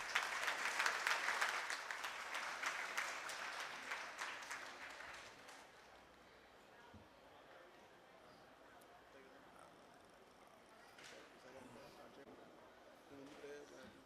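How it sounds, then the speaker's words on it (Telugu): Audience at a music school's first anniversary function applauds, dense clapping loudest at the start and fading out after about five seconds, leaving quiet room ambience with faint scattered sounds. "మరి కొంచెం గట్టిగా కొట్టాలి చప్పట్లు ఆయనకి"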